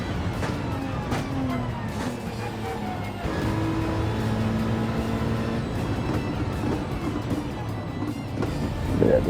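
A race car laps a track in Gran Turismo 7, its engine droning steadily and rising and falling in pitch through the gears, a continuous close motor roar with no voices.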